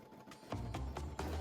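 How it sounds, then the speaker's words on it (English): A home embroidery machine stitches at live speed, giving a quiet, rapid mechanical chatter with a few louder rhythmic thumps, heard up close with no talking. "Here is a live action version of how fast it is."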